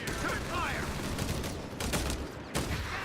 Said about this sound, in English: Just for you, Puddin', I'm gonna throw another nade.